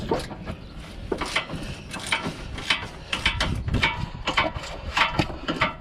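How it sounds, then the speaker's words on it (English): A 3/8 ratchet works bolts on a 2012 Fiat 500, rapid close metallic clicking in uneven bursts as the handle swings back and forth, moderately loud with no voices. "I'll try and get these out and get to them with my 3/8 ratchet"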